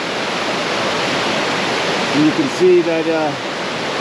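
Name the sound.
white water rushing in a river creek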